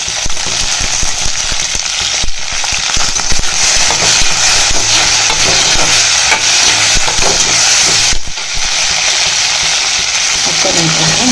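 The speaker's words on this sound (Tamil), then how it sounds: "முருங்கைக்காய் போட்டு எல்லாத்தையும் நல்லா வதக்கிக்கலாம்" Brinjal, drumsticks and carrot are sautéed in a pan for drumstick sambar, giving a loud, continuous close-up sizzle with crackling spits and scraping stirs that runs on unbroken.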